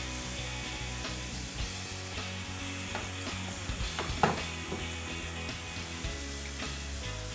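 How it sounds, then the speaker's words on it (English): Food sizzles steadily in a pan, a soft continuous crackle with a few light clicks and scrapes from stirring. "You want to hear that nice sizzle, that strong saute."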